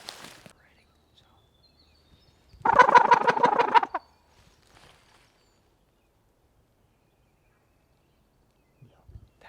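A young male wild turkey, a jake, gobbles once in a single rattling burst lasting about a second, somewhat distant and otherwise alone in a quiet spring woods.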